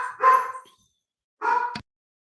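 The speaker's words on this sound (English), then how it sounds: "Hopefully they're not going to spend too much time barking." Dogs barking indoors in two short bursts, the first longer and louder, the second ending abruptly with a sharp click, with silence in between.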